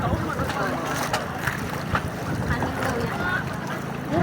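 A small boat on open water off Oslob, Cebu, during whale shark watching: steady wind and water wash roll continuously with close buffeting gusts, and voices murmur faintly underneath.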